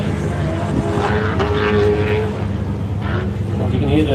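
A pro buggy's racing engine screams from across the pits at an off-road desert race meeting, a loud, sustained, droning roar close by, with a commentator talking over it.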